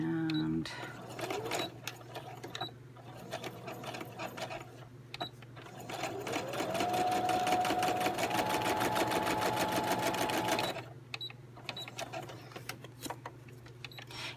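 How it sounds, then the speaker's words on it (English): Sewing machine stitching around a paper envelope craft, its motor whirring and needle tapping in a steady close run that speeds up midway, with brief pauses at the start and end. "So I'm going to sew around this to close it up."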